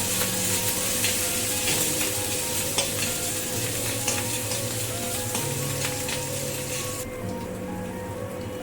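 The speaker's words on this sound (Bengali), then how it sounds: "একটু ভাজা ভাজা করবো আদাটা" Grated ginger fries in a pan for a Bengali moong dal and bottle gourd dish, a steady close crackling sizzle with scraping stir strokes throughout, easing slightly near the end.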